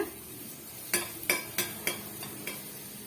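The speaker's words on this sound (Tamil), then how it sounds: "கொஞ்சமா கருவேப்பிலை சேர்த்துக்கலாம் சேர்த்துட்டு நல்லா வந்து வதக்கி விட்டுருங்க" A spatula scrapes and knocks against a pan several times in uneven strokes, with a faint sizzle underneath, as onions and curry leaves are sautéed.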